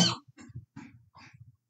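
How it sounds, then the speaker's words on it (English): A sharp nearby cough followed by a string of smaller hacking coughs and throaty rasps. "I've had this cough for weeks."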